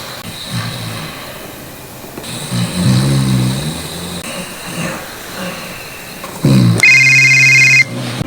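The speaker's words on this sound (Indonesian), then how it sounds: "HP Joseph tiba-tiba berdering" A mobile phone rings with a loud electronic tone that cuts in near the end, following a stretch of engine rumble and background noise.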